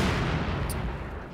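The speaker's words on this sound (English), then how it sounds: "look at these hits from that mortar" A mortar pit fires in a video game: a loud, booming blast rolls out and slowly fades over a second or so, with no talking over it.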